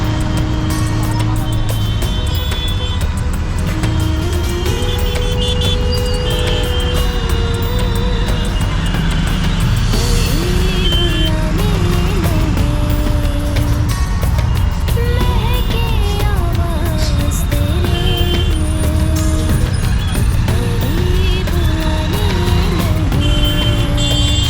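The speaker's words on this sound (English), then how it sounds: "After a long tuk-tuk ride, we're here." A tuk-tuk ride through busy Delhi city traffic: a steady, loud engine drone with shifting pitch as it speeds up and slows, and dense street noise around it throughout.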